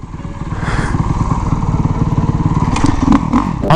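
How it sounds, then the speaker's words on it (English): A motorcycle performing a stoppie is heard up close, its engine running steadily loud as it shifts from first into second gear, then a few thuds and clatters as the front brake is stabbed hard near the end. "First gear, second gear, we're going to be stabbing the brake squared up with our body, and we're just going to roll."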